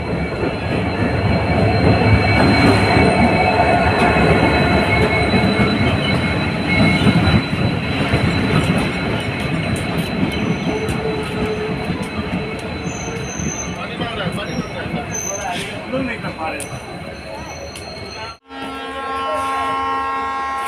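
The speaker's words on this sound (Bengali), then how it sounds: "ট্রেন আসছে এখন।" A passenger train rolls in toward the Siliguri junction, its wheels grinding and squealing on the rails in a loud, steady roar that swells, then eases as it slows, ending in an abrupt cut to quieter ambience.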